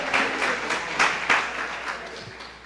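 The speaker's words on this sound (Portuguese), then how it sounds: "Aplauda o Senhor com o seu melhor." A church congregation applauds together, a continuous bright rush of many hands with a few louder bursts standing out, filling the space steadily without speech.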